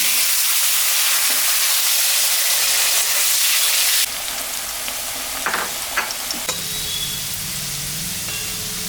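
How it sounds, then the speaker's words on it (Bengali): Potatoes frying in oil left from frying boal fish, a loud, dense hiss for about four seconds that then settles into a softer, steadier sizzle with a few light stirring knocks, no voices. "কয়েকটা আলু আমি ভাজি"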